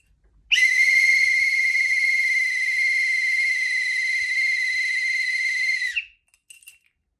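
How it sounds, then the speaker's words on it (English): A Spalding metal whistle gives one steady, shrill blast of about five seconds, loud and close in an otherwise quiet church setting, ending abruptly with a faint rustle afterward. "a quick lesson on how to blow the whistle at Faith Church to round up kids in a silent way, going for 5 seconds"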